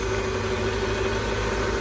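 Mercedes S-Class with an Active Body Control fault, engine running at idle, a steady low hum with a constant mid-pitched whine, close and even throughout, with no voice over it.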